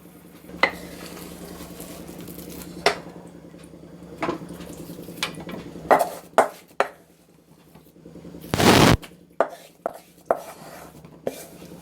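A spoon scrapes and knocks against a pot of kozhukkattai flour dough in irregular strokes while something sizzles faintly, with one longer burst of noise midway.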